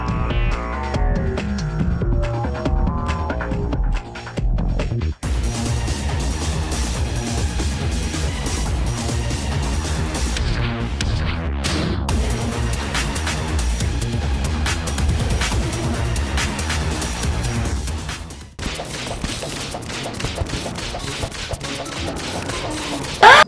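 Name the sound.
Skeletron boss fight in the video game Terraria, skulls shooting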